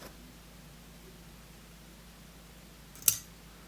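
A single crisp snip of scissors cuts flash fly-tying material for a streamer jig, close and brief, following a few seconds of quiet room hiss.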